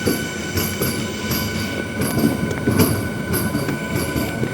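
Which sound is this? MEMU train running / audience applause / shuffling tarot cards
MEMU train running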